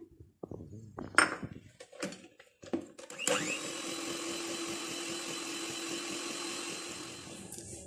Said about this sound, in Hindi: अब इसमें हम ये तीसरा अंडा डालेंगे और फिर दोबारा इसको बीट करेंगे